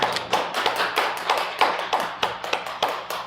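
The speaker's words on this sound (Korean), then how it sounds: "함께 해주신 하나님 앞에 감사와 찬양의 박수를 올려드리겠습니다." A church congregation at a New Year's Eve service claps together in a steady rhythm, the applause loud and close, with no talking over it.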